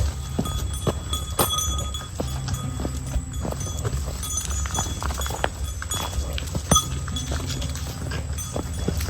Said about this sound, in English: They put these kind of bells on horses in the backcountry too